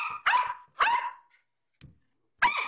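A dog barks in short excited bursts while playing fetch and soccer indoors, three sharp barks spaced apart with a faint yip between them, close and clear.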